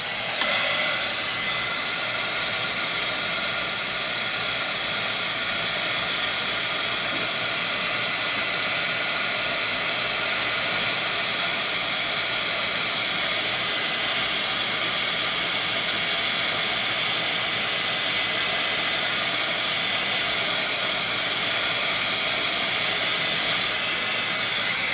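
Heat tool blowing hot air over embossing powder, a loud steady roaring hiss that holds unchanged and continuous throughout, with no talking over it.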